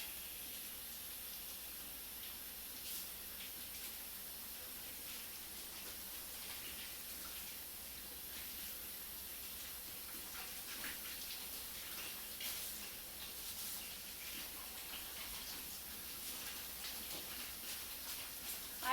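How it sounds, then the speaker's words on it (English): Running tap water streams steadily as dye-ready fabric is rinsed to remove sizing, a continuous hiss-like wash at moderate, even level throughout with faint splashing. "We're going to rinse out sizing and anything else that's in it that can sometimes inhibit the dye from taking to the fabric."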